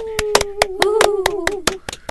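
Sharp hand claps ring out in a quick, uneven series of about a dozen strikes. A sustained voice runs underneath, holding a pitched tone across the claps.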